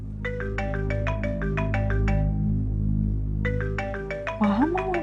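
A mobile phone ringtone plays a bright, repeating electronic melody in two phrases split by a short pause, loud and close, with a brief vocal sound near the end.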